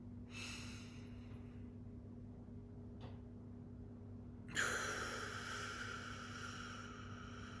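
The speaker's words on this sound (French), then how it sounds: "On inspire." A slow breath drawn in during a relaxation breathing exercise, heard as a faint airy inhale early on and a louder, closer breath later, over a low steady hum.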